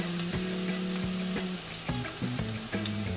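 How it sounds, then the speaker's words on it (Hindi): Chopped garlic and a bay leaf frying in hot oil, a steady close sizzle with crackling pops and stirring clatter throughout. "अब इसमें एक तेज पत्ता डाल देते हैं और साथ ही इसमें लहसुन डालेंगे 1 टेबलस्पून चॉप किया हुआ।"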